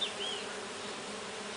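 Dense, steady buzzing of many Melipona stingless bees working the flowering ora-pro-nobis, a continuous close hum with no gaps for the whole moment.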